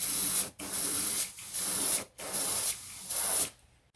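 Cream paint is sprayed from an airbrush onto the fuselage of a model Blackburn Monoplane in several bursts of steady hiss, each lasting about a second with short pauses between them, close and alone.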